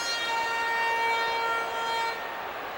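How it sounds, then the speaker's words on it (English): Final horn ending a hockey game in an NHL video game, a loud sustained siren-like blast held for about two seconds before cutting off into arena noise. "The final horn sounds."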